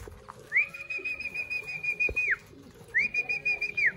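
Two long, steady, fairly loud human whistles called out to pigeons, each held over a second or more, with a short gap between them over faint background noise.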